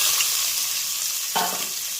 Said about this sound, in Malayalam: കടുക് പൊട്ടി അതിലേക്ക് നമുക്ക് അരിഞ്ഞ് വെച്ചിരിക്കുന്ന സവോള